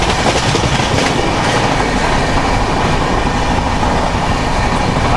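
The 12840 MGR Chennai Central to Howrah Mail superfast express rumbles along steadily from on board, a dense continuous roar of wheels and rail noise with a constant clickety-clack, loud and unbroken throughout.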